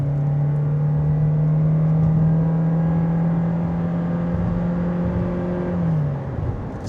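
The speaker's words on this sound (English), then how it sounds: "Let's do a quick highway merge and see how much power this thing has getting on a highway." A 2025 Toyota Corolla Cross Hybrid Nightshade accelerates hard onto a highway, a loud steady drone and whine holding pitch for several seconds, then dropping and fading near the end, heard from inside the car.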